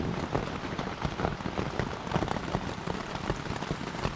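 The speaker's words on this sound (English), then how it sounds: "it was raining" Steady rain drumming on a one-man backpacking tent in the early morning, a dense, continuous patter of close drops with no voices.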